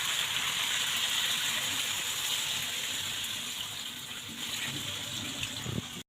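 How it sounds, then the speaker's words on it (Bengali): Water pours steadily from a tap into a cooking pot in a kitchen, a continuous close gushing stream that fades a little toward the end, with no talk over it. "এবার পরিমাণ মতো জল দিয়ে দিলাম।"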